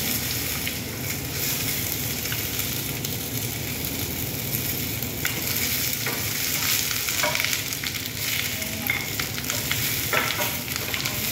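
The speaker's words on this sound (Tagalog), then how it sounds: "Pag-isa-gisa lang ng konti." Garlic and onion sautéing in a pan, a dense continuous sizzle close by, with occasional light scrapes of a spatula stirring through it.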